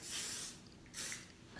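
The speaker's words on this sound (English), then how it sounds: "So then I will just spray around to make sure that the sides" Hairspray misted around the sides of styled vintage curls, three short aerosol hisses at close range with quiet pauses between them.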